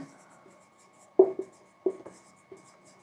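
Pen or pencil writing notes on paper: soft, close scratchy strokes in a few short bursts separated by pauses, quiet and alone with no talking.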